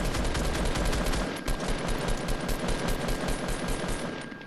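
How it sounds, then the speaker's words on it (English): Rapid, loud automatic gunfire in Fortnite Battle Royale, a dense continuous burst of shots with a brief dip partway through. "There's other people that were shooting at us."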